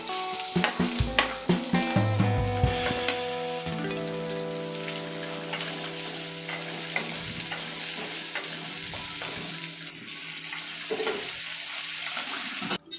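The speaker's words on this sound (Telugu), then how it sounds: "నెక్స్ట్ గార్లిక్ జింజర్ వేసుకుందాం. ఇవన్నీ బాగా ఫ్రై అయిన తర్వాత" Garlic and ginger frying in a pan for a raw banana fry, a loud bright sizzle with stirring clatters early on, then a steady crackling hiss running alone to the end.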